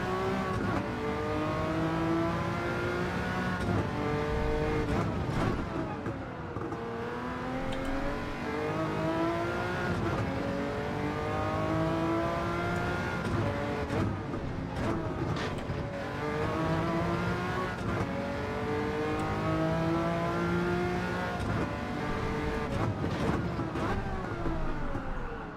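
A race car in Gran Turismo 7 revs repeatedly through the gears, engine pitch climbing and dropping in rhythmic waves with occasional tire squeal, loud and continuous for the whole stretch.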